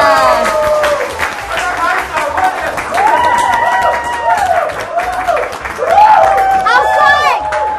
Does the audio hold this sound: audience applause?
yes